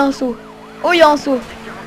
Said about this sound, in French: Il y a une voiture de police devant moi.